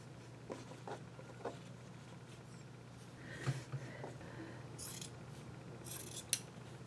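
Scissors trimming fabric at a sewing table, with several quiet, crisp snips spaced irregularly and faint rustling of cloth between cuts, close and soft.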